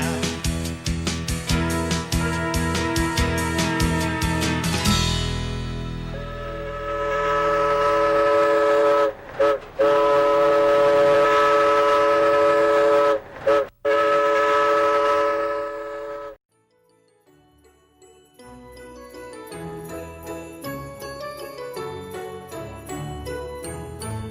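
A toy Christmas train rumbles along with a long whistle blast and chiming, jingling music playing throughout, cutting out briefly before bell-like tones resume.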